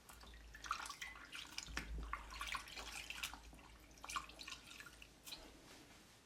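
Water drips and trickles from a piece of wet felt lifted out of water during wet felting, an irregular patter of small splashes close by with no talk.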